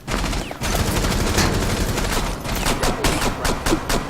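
Rapid gunfire from the tactical shooter video game Rainbow Six Siege, loud and sustained bursts with sharp individual shots standing out near the end, after a brief pause early on.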